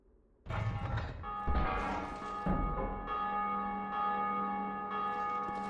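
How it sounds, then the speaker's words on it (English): A large bell in the Iron Keep of Dark Souls 2 is struck, ringing out with a clang, then a second and third heavy strike, each leaving a long, bright, metallic hum that sustains and slowly decays. "so I'm going to ring the bell"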